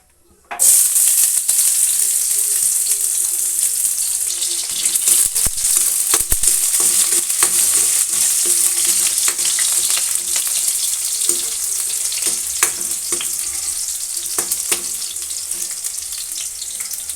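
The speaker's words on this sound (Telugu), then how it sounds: "ఆయిల్ హీట్ ఎక్కిన తర్వాత మనం అందులో ఆనియన్స్ వేయాలి" Onions frying in hot oil for a potato and tomato curry, a loud steady sizzle running throughout with scattered sharper crackles and pops, no voices.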